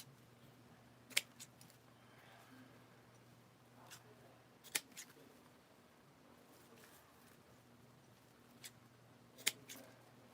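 Scissors cutting wreath material, several sharp crisp snips spaced a few seconds apart, close but quiet over a low steady hum.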